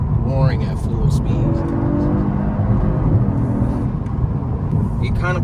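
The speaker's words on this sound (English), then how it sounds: "The car has a lot of bark for a V6." A Genesis G70 V6 engine revs sharply at the start and again near the end, barking and rising in pitch, with a person talking over a steady background rumble.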